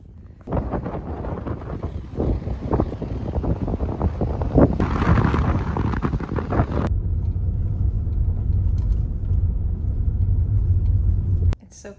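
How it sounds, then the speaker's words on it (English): Steady wind on a rooftop patio at a seaside campground on Chincoteague Island buffets the microphone with low rumble, continuous and loud throughout, briefly changing character midway before cutting off near the end. "it's a little windy for that right now"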